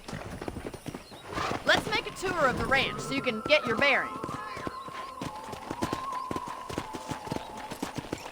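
Horse hooves clip-clop steadily at a walk throughout in the video game Red Dead Redemption, with a horse whinnying briefly and someone speaking over the hoofbeats.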